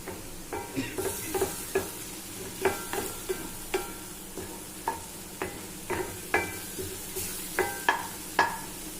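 Dried fish thokku sautés in a pan, a spoon scraping and stirring in repeated sharp clinks and scrapes over a low, steady sizzle, close and fairly quiet.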